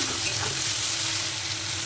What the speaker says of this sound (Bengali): 2 মিনিট পর আলুর সাথে মশলাটা ভালোভাবে কষিয়ে নেব